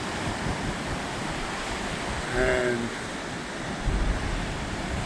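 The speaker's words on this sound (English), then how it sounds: "churned up waves around here." Churned-up surf washing onto a rocky Oregon coastline under a coming storm, a steady broadband roar with a slight swell near the middle, while a voice speaks briefly over it.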